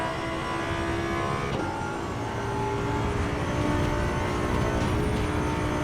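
A V10 engine and differential whine in the racing game Assetto Corsa EVO, sounding as a steady, droning engine tone with a layered high whine, held at fairly even loudness and heard alone.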